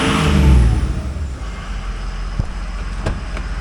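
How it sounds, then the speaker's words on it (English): A 2004 Ford F250 Super Duty with the 6.0L Powerstroke diesel running nearby, a loud rumbling drone that swells briefly at the start and then settles into a steady idle with a few faint knocks. "A very nice running truck."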